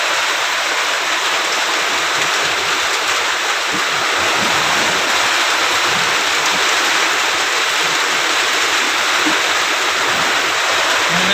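Floodwater rushes into a house during a typhoon with rain still falling, a loud, continuous roaring wash of water that stays steady and close throughout.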